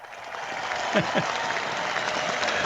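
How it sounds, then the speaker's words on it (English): An audience applauds steadily, a dense wash of clapping with a brief voice or cheer near the start. "A big round of applause for that."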